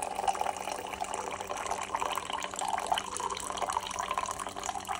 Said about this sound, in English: Slowly pour coffee into cup.